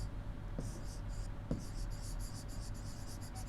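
Quiet, rapid squeaky strokes of rational numbers being written on a board come in short bursts with brief pauses, recorded close against a low room hum.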